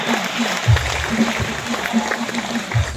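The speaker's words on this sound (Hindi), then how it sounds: "तालियां बजाइए, तालियां।" Applause from an audience at a Catholic men's association annual general meeting in Mandar, a steady patter of clapping hands filling the hall for a few seconds.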